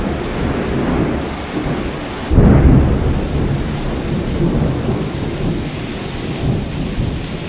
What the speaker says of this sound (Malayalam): ഇടി വെട്ടിയ ശബ്ദമാട്ടോ നിങ്ങളിപ്പോൾ കേട്ടത്.